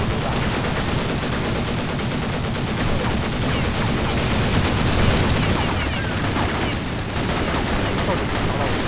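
Rapid gunfire and cannon blasts from the shooter game CS Online crackle in a dense, continuous barrage, loud and busy throughout, with bursts of booming fire layered over one another.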